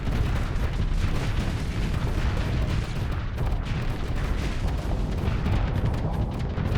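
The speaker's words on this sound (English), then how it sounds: "Do like the fucking salvo of missiles just coming in from the left to chisel it down" A salvo of missiles slams into ships in the space combat game Starsector, a dense, continuous barrage of loud, overlapping booms and blasts rumbling without pause throughout.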